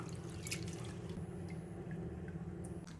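Black kavuni rice washed in water in a kitchen, heard as soft continuous sloshing with faint drips, close and steady.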